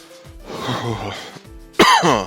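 A raspy throat-clearing rumble followed by a sudden, loud, harsh cough close to the microphone.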